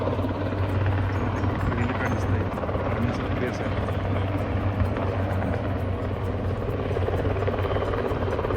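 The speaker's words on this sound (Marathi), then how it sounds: "हेलिकॉप्टरचा आवाज येतो." A helicopter's rotor drone throbs steadily at a distance in Leh, Ladakh, a constant low thrum with wind noise, while someone talks over it.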